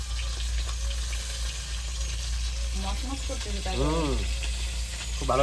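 Fresh river fish frying in hot oil, a continuous sizzle with low background hum, joined in the last few seconds by short voiced sounds over the frying.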